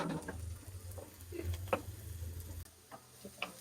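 Onions roasting in a pan for egg Maggi in a home kitchen, a soft steady sizzle with a low hum and a few light clinks of stirring, then quieter toward the end.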